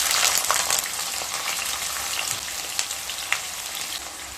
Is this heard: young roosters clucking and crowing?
no